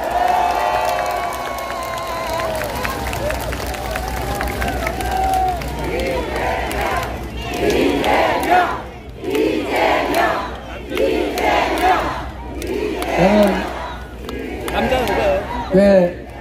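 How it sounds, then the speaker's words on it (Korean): Large outdoor rally crowd at Bupyeong Station roars, with rhythmic chanting bursts and cheering over scattered applause, loud and close. "함께한 동지들을 위해서 박수 한번 부탁드립니다."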